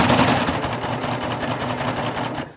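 A sewing machine stitches over a fabric seam at a loud, steady rapid whir with close mechanical ticking, running continuously before slowing and cutting off at the end.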